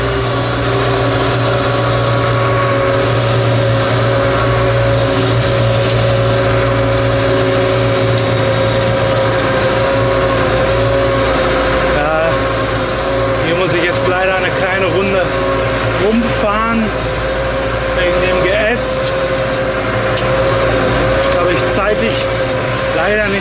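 Steady, close diesel drone of an MB Trac 65/70 tractor with a Duett fertiliser spreader, pulling away in second gear on a meadow, the engine note holding loud and constant while someone talks over it.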